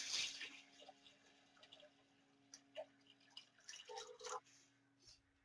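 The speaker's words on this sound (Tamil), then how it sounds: "இந்த தண்ணி அதுல ஊத்திருங்க." Water trickles and splashes into a pot for Ven Pongal in short, irregular bursts, fairly quiet, with brief pauses between pours.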